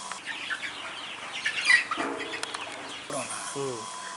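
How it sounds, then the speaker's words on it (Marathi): Native Sahyadri breed chickens cluck and murmur in a flock on a free-range poultry farm in Sangli, with a few sharper calls standing out over a busy farmyard background. "हे आता आपले गावरान पक्षी हे सह्याद्री जातीचे पक्षी आहेत"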